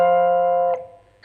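An electric guitar plays a double-stop on two strings, held steady and loud for a moment before the strings are bent up a semitone. The tone then fades quickly, followed by a faint scrape.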